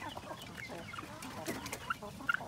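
Young chicks and hens cluck and peep in a backyard poultry pen, soft scattered calls running throughout, with a few sharper chirps near the end, close and fairly quiet.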